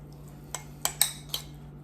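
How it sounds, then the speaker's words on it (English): A spoon stirs a meal with sauce in a dish, giving four light metallic clinks against the bowl at uneven intervals over a faint steady background hum. "Mix that all up."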